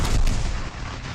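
A single heavy boom of Union Civil War artillery from the 1864 Atlanta campaign, loud and close, with a deep rumbling tail that fades over about a second.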